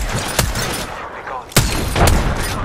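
Sharp broadband shots from a 30-30 Repeater lever-action rifle in Apex Legends, three distinct reports spaced over a few seconds amid in-game battle noise, loud and close with no talking.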